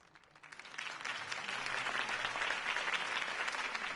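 Crowd applauding a Harvey Dent campaign speech, swelling quickly from quiet into sustained, dense clapping that holds steady and fairly loud.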